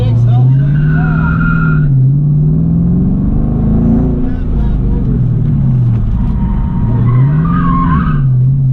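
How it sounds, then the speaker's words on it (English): A Dodge Charger Daytona at a Street Machine Nationals autocross, engine droning loudly and rising and falling as the car oversteers and its tires squeal and skid, with people talking over it. "Whoa, lots of oversteer."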